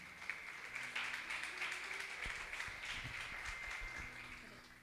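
A church congregation applauds, a steady, moderately distant patter of many hands clapping throughout, with faint low thuds and murmurs underneath.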